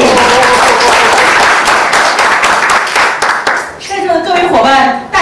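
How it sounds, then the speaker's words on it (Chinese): Loud, dense audience clapping in a lecture hall as a speaker is welcomed onstage, sustained for several seconds and then thinning, with voices audible over the tail end. "我们欢迎聂老师，热烈掌声鼓励"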